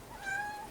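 A house cat meows once in an apartment, a short, clear, rising-and-falling call heard close by with no talking over it.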